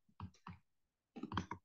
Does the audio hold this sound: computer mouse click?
yes